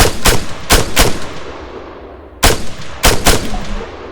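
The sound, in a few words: gunfire from targets in the video game ARMA 3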